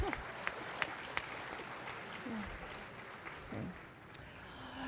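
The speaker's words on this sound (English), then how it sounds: "So please, a round of applause for yourselves, for Elder Lawley, and the witnesses." Round of applause at a dinner prayer event, steady clapping from the gathered guests lasting several seconds before easing off, with a few voices heard faintly underneath.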